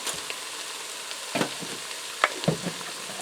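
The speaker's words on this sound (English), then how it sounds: "I'm going to allow this to saute for a few more minutes to soften up that onion" Ground beef, diced onion and garlic sauté in a Ninja Speedi pot, a steady soft sizzle broken by a few brief scraping stirs, close and moderately quiet with no talking.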